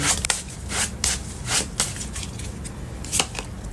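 Tarot cards being shuffled by hand, a few short riffling bursts spaced irregularly over a quiet background, close and moderately loud.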